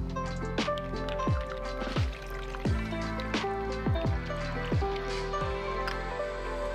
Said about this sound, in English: and we're going to pour over